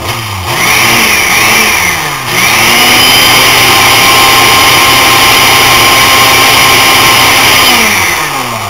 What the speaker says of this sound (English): Like I don't have enough noise with the blender.